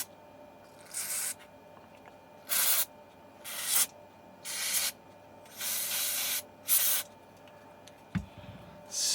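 Brake cleaner sprays into a Shargeek Storm 2 power bank during a repair, a series of loud hissing aerosol bursts of one to two seconds each, separated by short quiet gaps.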